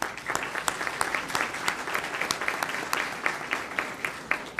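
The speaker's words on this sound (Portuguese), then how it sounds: "Uma salva de palmas." Applause from an audience in the gallery of a public hearing on homeschooling held by an education, culture and sports committee, a steady dense clapping with sharp individual claps standing out throughout.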